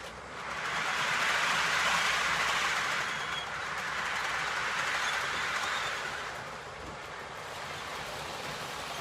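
A model railway Class 50 locomotive running on a layout, a steady rushing motor and wheel noise that swells early, then eases and holds at a moderate level with no voices.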